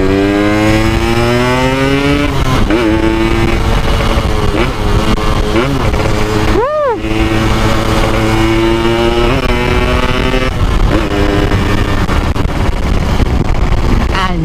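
A Yamaha RX Special 115cc two-stroke motorcycle with an Altek C17 exhaust revs loud and close. Its engine note climbs and falls in repeated throttle blips, with one sharp rev spike in the middle.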